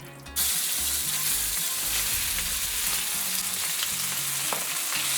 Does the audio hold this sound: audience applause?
no